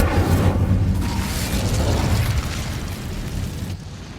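Incendio fire spell cast in Hogwarts Legacy, a loud burst of roaring flame that whooshes up and sustains as a broad rushing crackle, tapering slightly toward the end, with no talk.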